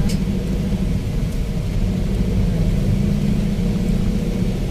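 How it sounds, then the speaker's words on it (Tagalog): Steady heavy rain roars close by on Commonwealth Avenue beneath a deep, continuous rumble of thunder, with no voices. "Ulan, titigil."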